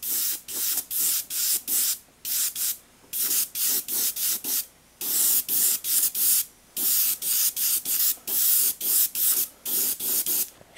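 Repeated short bursts of a spray can hissing, dozens of quick sprays in an uneven rhythm with brief pauses between, close by.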